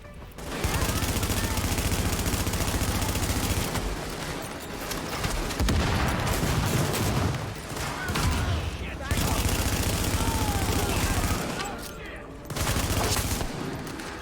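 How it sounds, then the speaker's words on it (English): Sustained automatic gunfire from the video game Tom Clancy's The Division, loud dense bursts nearly continuous with brief lulls, heavy booms mixed in and game voices calling out over the shooting. "Fire at will! Focus fire now."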